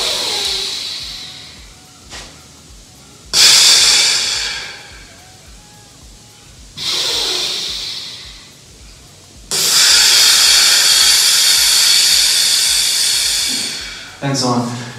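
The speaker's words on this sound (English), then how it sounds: "I'm gonna show you how I breathe when I play" Deep diaphragm breathing shown by a musician: long, loud airy inhales and exhales, four broad breath swells close to the mic with quieter gaps between them, the last one cut short.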